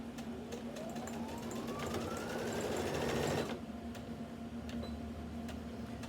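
A sewing machine stitches a fabric seam, its needle whirring steadily and fairly quietly before speeding into a brief louder burst, then stopping abruptly and leaving low background hum with faint clicks.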